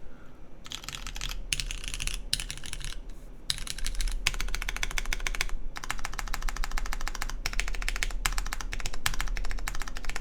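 Mechanical keyboard, a CK Touchstone build, typed on with its vertical 2U numpad keys; quick bursts of close, crisp clacking separated by short pauses, over a steady low electrical hum.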